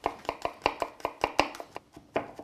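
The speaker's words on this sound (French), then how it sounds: "je vais essayer de la hacher le plus finement possible" Kitchen knife finely chopping peeled garlic on a board: about a dozen crisp, rapid taps in a quick, slightly uneven rhythm, close and clear with no talk.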